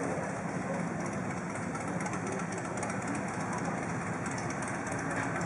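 Heavy motorcycle engines idle together at the opening ceremony of a 2012 international shooting World Cup, in a constant low rumble that stays steady throughout, with no voices over it.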